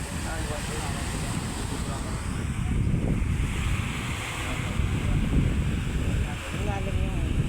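Sea waves at high tide washing in under strong wind buffeting the microphone, a broad continuous roar that swells midway, with no clear speech.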